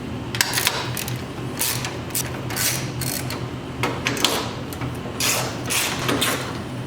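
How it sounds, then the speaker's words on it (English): A hand ratchet loosens the headlight strap nut on a 2003-2008 Toyota Corolla, giving a series of close, crisp clicking bursts in irregular rhythm against a steady background hum. "Let's grab our ratchet."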